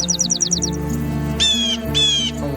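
Bird calls in the video game Wingspan, a quick run of repeated chirps followed by two longer, bright warbling calls over a sustained background tone.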